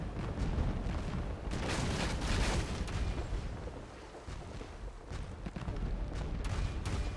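Ship cannons firing in the Pirates Online game, a dense series of heavy booms and rumbling blasts, loud and continuous, with a short lull midway before more shots.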